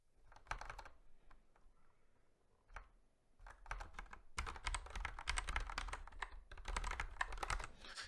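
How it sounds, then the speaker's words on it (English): Computer keyboard typing: sparse individual keystrokes at first, then dense rapid bursts of clicking, close and fairly quiet, with no speech. "I'm hearing a lot of keystrokes."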